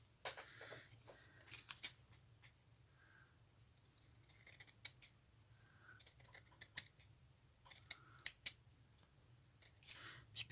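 Small scissors snip lace in quick, faint, crisp cuts, clustered irregularly with brief pauses between them in a quiet room.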